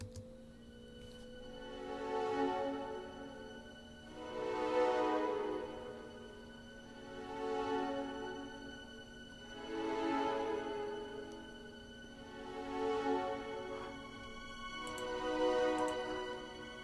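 Muted con sordino string sustains from the Albion 2 Loegria orchestral sample library, layered for a cold, soft tone, swelling and fading in slow, even waves roughly every two and a half seconds with no one speaking.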